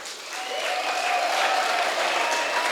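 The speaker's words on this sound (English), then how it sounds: "Can you give yourself, staff members, a big round of applause?" Dense applause from staff members at a gala dinner, a continuous wash of clapping that swells slightly and holds, with no talking.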